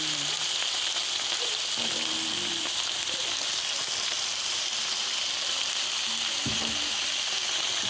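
Fried rice with carrots and corn sizzles steadily in a hot pan as it is stirred, a constant close hiss with faint scraping and clinks of the utensil against the pan.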